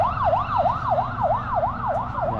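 An ambulance siren wails in a steady, repeating up-and-down sweep, loud and close at the roadside scene of a dump truck crash caused by brake failure on GMA-Carmona Road, with traffic rumbling underneath.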